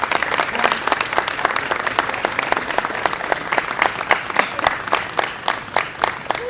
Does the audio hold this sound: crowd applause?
yes